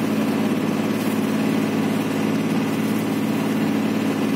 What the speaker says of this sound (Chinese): 快艇在等我们了哈